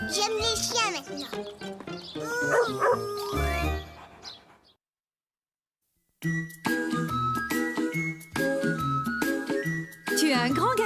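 A cartoon dog barks and yips in a French-language Caillou children's cartoon, short bursts mixed with character voices and music, broken by a brief silent gap before the sound resumes.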